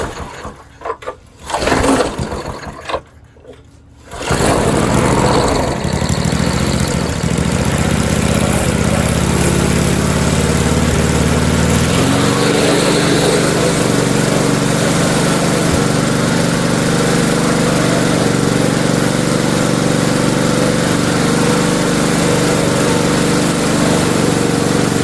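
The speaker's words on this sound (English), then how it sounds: "Torquey little engine." A discarded lawnmower's small engine sputters through a few uneven attempts, then catches and runs loud and steady close by, settling into a continuous idle drone with a deeper note after a while.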